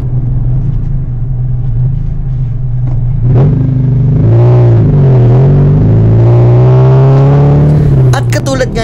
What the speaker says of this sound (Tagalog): talaga namang rinig na rinig ninyo ang ingay ng makina ng auto ko